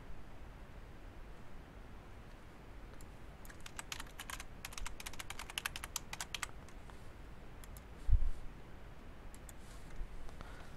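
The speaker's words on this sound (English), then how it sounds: "Let me type in the password." Someone types a password on a computer keyboard at an admin login screen, tapping out a quick run of crisp keystrokes with a few scattered taps after, faint against a quiet hiss with no talk.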